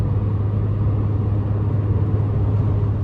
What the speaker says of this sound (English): I just backed into the driveway.